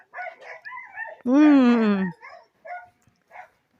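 Dogs bark and whimper close by, with a long loud whining yelp in the middle and shorter yips before and after, while people talk nearby.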